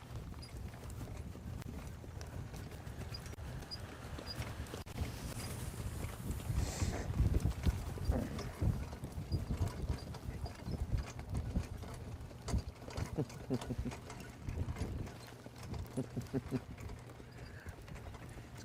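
Harness racing horses on a training track, hooves clip-clopping in a steady rapid pacing rhythm that swells as they pass nearby, over a low rumbling background with faint voices.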